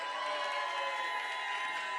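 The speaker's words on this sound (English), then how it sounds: "Then you stand up, and clap, and cheer!" Keynote audience standing to clap and cheer, a dense continuous wash of applause and shouts, loud and steady throughout.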